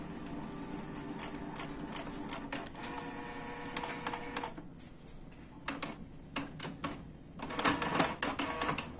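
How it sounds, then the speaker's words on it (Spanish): A Canon MP250 inkjet printer printing a page, with mechanical whirring, rattling paper-feed passes and sharp clicks in uneven bursts that grow louder toward the end, heard close up. "Voy a iniciar a imprimir"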